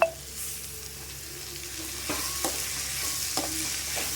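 Chopped vegetables and boiled potato stirred and sautéed in a hot pan, a steady close sizzle broken by several sharp spatula scrapes and taps.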